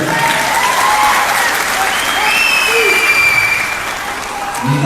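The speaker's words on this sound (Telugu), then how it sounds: "ఆ బిడ్డలు గట్టిగా చప్పట్లు కొట్టుకుంటారు." Loud, dense clapping from a large crowd at a Bahujan political rally in Telangana, sustained steadily throughout with a slight dip near the end, with faint voices underneath.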